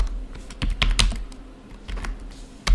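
Bursts of key clicks from a computer keyboard, close and fairly loud, with a few sharper taps in an irregular rhythm over a low hum, and no one speaking.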